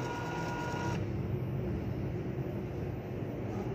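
An Epson L805 printer failing to feed paper, its motor humming and whirring steadily, a faint high tone dropping away after a second while the low mechanical drone continues.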